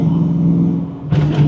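Engine of a 1993 Ford Mustang Cobra holds a steady, loud idle-like drone, dips briefly, then surges as the throttle is blipped, up close and with no talking.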